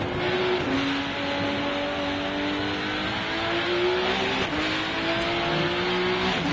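A Porsche race car engine in the RennSport racing sim drones loudly and continuously, its pitch rising and dropping with gear changes and throttle through corners.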